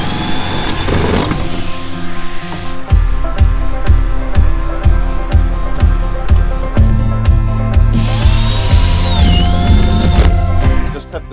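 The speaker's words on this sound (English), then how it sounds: "we're just drilling holes so I can attach some ratchet straps" Power drill boring holes for ratchet straps on a chicken tractor, a series of roughly nine rhythmic whirring bursts, loud and close, with a higher whining pass near the end.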